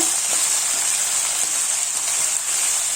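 Mixed vegetables for Kerala aviyal sauté in a pan, giving a loud, steady sizzling hiss with faint scraping taps now and then; no speech.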